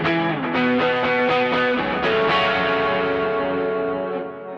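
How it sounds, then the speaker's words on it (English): Electric guitar driven through a Tube Screamer overdrive pedal on a Boss ES8-based pedalboard, playing a few strummed chords with thick, distorted sustain that rings out and slowly fades. "when we hit the chorus, I simply hit the same switch and it brings in the tube screamer."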